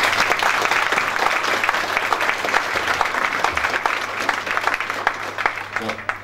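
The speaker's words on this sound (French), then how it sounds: "Je pense qu'on peut vraiment les applaudir." Dense, continuous applause from a large audience for local athletes at a mayor's New Year reception in Thury, a loud steady wash of clapping that holds throughout with a low hum underneath.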